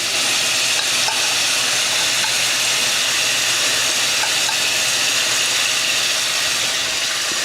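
Ground turkey with garlic and spices cooking in a pan, giving a loud, continuous sizzle and frying hiss with occasional stirring scrapes, close and steady the whole time.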